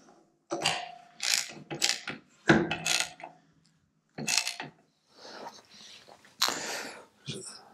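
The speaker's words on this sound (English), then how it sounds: "And I'll tighten the nut." A nut being tightened on Ironhead motorcycle flywheels: a close series of short metallic ratcheting and clicking bursts, some separated by brief pauses, loud and alone in a quiet workshop.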